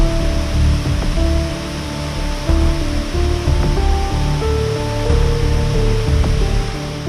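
Strong river current rushes past a broken village bridge patched with electricity poles, a loud, dense roar of flowing water with faint tonal hums and occasional knocks layered over it.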